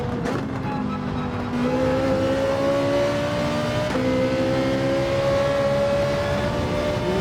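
Ferrari 458 Italia racing in Gran Turismo 7, a loud sustained engine whine climbing steadily in pitch through the gears, close and continuous with no voices.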